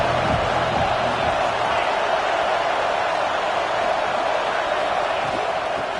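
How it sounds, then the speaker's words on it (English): Stadium crowd at a college football game between Notre Dame and Clemson, a dense, sustained roar of cheering filling the whole stretch, loud and continuous, with a commentator's voice over it. "This crowd ready to make its presence known."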